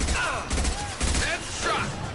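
Gunfire in Mass Effect 2 combat, a dense burst of shots under game sound effects and voice-like tones, loud and continuous across a short stretch.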